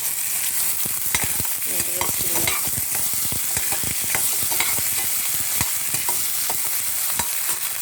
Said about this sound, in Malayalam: നെയ്യ് മെൽറ്റായി അതിലേക്ക് പൊട്ടറ്റോ മൊത്തം ഇടാം